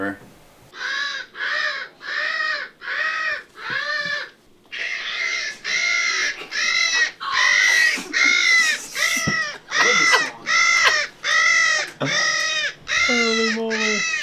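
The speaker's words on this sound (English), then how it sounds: "sounds like they recorded a crow" Loud, harsh crow caws repeat in a steady rhythm, close and insistent, some calls breaking into raspier, strained cries.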